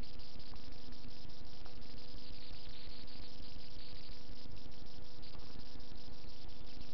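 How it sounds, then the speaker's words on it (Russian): Insects drone and whine steadily in a spring forest where mosquitoes have appeared in numbers, a dense continuous high buzz with a few faint clicks, no speech. "уже появились комары и довольно много"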